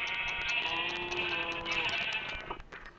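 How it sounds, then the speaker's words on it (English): Sheep bleating in the Minecraft video game, a sustained nasal bleat that is loud and close, then fades out near the end. "Here's a sheep."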